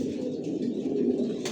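Racing pigeons of one bloodline coo steadily inside a loft, a dense overlapping chorus of low throaty calls with no talking.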